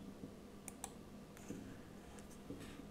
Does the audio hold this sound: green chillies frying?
no